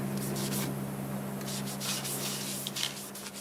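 Soft, steady rubbing of finish onto a wood-turned piece, a faint continuous friction hiss over a low hum, with a few slightly sharper strokes near the end.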